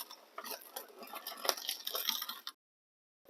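Grating, rattling mechanical noise of a Zassenhaus Classic manual hand-crank bread slicer cutting a thin slice of bread, a busy clattering texture lasting a couple of seconds, then it stops abruptly.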